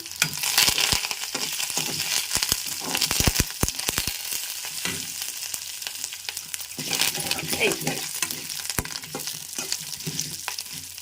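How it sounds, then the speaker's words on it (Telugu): Curry leaves crackle and sizzle in hot oil for a citron (dabbakaya) pulihora, with loud, dense spitting pops and rapid bursts over a steady frying hiss, close and continuous. "కరివేపాకు కూడా కమ్మన వాసన కదా చూసారా చెప్పట్లు ఆడిపోతుందా ఆడావిడి చేసేస్తుంది కదండి కరివేపాకు"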